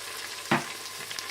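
A faint sizzle of ground ginger garlic paste frying in a pan, with a single brief burst of stirring or spattering partway through.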